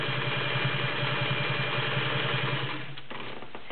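A vintage Singer 600E Touch and Sew sewing machine runs with a loud, steady mechanical drone and rapid rhythmic chatter close by, slowing slightly near the end, with no talking.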